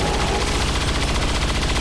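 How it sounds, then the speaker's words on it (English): A heavy beam cannon fires in XCOM 2, a dense, loud, sustained blast of crackling energy and booming low rumble that fills the whole moment without pause or speech. "And then Jingles' beam cannon."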